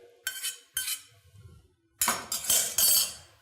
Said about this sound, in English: we'll just put this on the nice serving dish